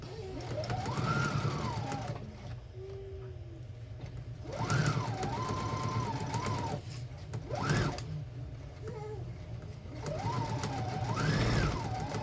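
A sewing machine chain pieces cloth mask pieces in several separate runs, its motor whirring up in pitch, holding, then winding down, over a steady low hum, close and moderately loud.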